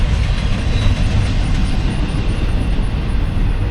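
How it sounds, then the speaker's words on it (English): A freight train rumbles past up close at a railroad crossing in Leighton, Alabama, a loud continuous roar of wheels and cars with faint rhythmic clatter and no talking. "So while we wait for that train to clear over there, shout out to the freight train."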